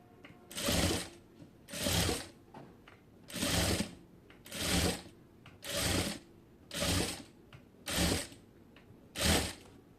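A sewing machine stitches lace onto the hem of a kameez in a steady rhythm of about eight whirring bursts, each lasting roughly half a second with short pauses between them, close and alone.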